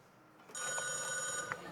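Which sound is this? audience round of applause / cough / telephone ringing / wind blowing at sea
telephone ringing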